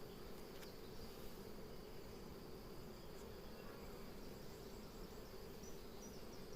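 Honey bees hum in a faint, dense, continuous drone around an opened hive during an acacia honey super harvest, with no voices.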